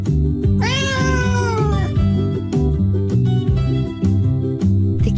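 A cat meows once in a long, rising-then-falling cry as it runs along a yard, set over a steady, loud musical backing that continues throughout.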